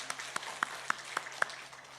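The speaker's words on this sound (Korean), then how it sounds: "박수로 환영해 주시기 바랍니다" Sparse, unhurried clapping from a church congregation welcoming a newcomer during a Sunday service, a handful of distinct claps spaced evenly in a quiet room.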